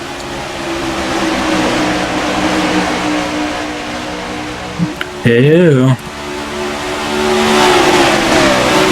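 Racing cars lap Watkins Glen in a chud racing event, their engines droning steadily under excited commentary, with one car's revving engine roaring past close by for a moment before the sound settles back into the continuous circuit noise.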